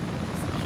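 A Mi-24 helicopter in a video game makes a low, slow pass, its rotor sounding as a loud, steady low-frequency chop throughout, with voices talking over it.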